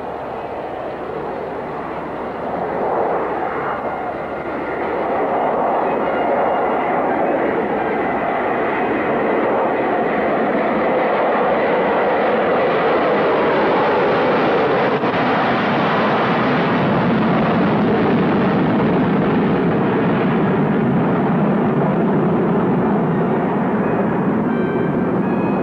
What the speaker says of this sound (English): Concorde about to land at Leicester.